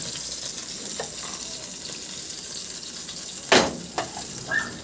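Chicken pieces fry in a hot pan while browning on the second side after turning, a steady sizzle running throughout with a few sharper spatters and clatters near the end.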